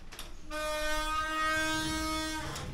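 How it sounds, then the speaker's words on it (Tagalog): A train on the railway from Saraburi to Bangkok in Thailand sounds a loud, steady horn blast of about two seconds, sustained and close, over a low rumble of the moving train. "Sasakay tayo ng train from Saraburi to Bangkok."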